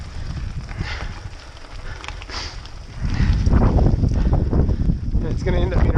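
Wind buffets the microphone on a cold, snowy mountain bike trail, a rough low rumble that swells louder halfway through, with a voice speaking over it.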